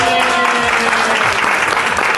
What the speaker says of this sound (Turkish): Evet alkış.